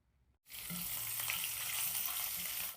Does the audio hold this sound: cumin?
yes